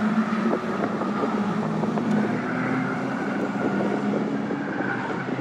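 Caterham race cars at Croft circuit drone past with steady engine tone and rising and falling revs, loud and continuous, with no talk over it.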